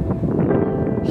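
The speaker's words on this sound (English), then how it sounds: "like this wind is crazy" A strong headwind buffets the microphone during a mountain bike tour, a loud continuous low rumble and rush close up with no break.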